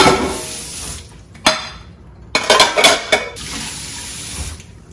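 Dishes and pots clink and clatter in a kitchen sink during washing up, with a few sharp knocks over running tap water, close and fairly loud.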